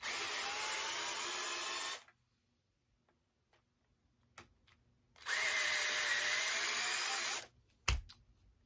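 A power screwdriver whirs in two steady bursts of about two seconds each while taking a part out of a Ghostbusters proton pack, with quiet clicks and a sharp knock in the gap between them.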